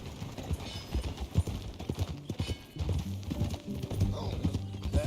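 Horse hooves clip-clopping in the video game Red Dead Redemption 2, a steady rhythmic trot of clear, close hoofbeats running through the whole stretch.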